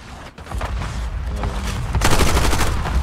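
Gunfire crackles through a Black Ops 6 match in quick, irregular bursts at middling distance. It builds into denser, louder fire toward the end.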